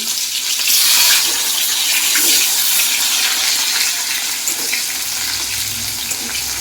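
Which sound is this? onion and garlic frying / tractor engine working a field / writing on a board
onion and garlic frying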